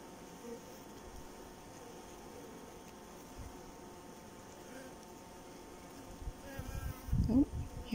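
Worker honey bees buzz steadily around a hatching queen bee at the hive, a soft continuous drone with a closer, louder buzzing pass near the end.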